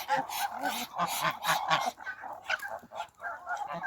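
A cluster of geese honk repeatedly nearby, loud overlapping calls in a rapid burst that then thins out into scattered honks.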